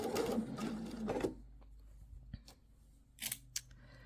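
A sewing machine stitches a seam on fabric for a pants welt pocket, with a short quick run of stitching at the start, then a pause, then a few brief needle taps and clicks, close and quiet.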